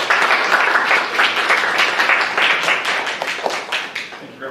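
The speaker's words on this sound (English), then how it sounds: "Let's give Jonas a round of applause." An audience at a speaker series talk claps steadily for a few seconds, a dense, even round of applause from many hands with no voices.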